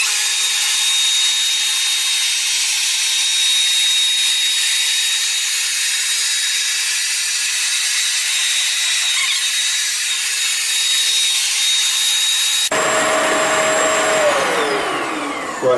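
A Bissell ProHeat 2X Revolution Pet Pro upright carpet cleaner running a wet pass over carpet, a loud steady motor whine and spray hiss that holds evenly, then drops in pitch near the end as the machine changes mode.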